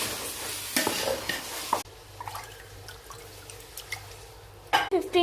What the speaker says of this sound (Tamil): அரிசி போட்டுக்கலாம்.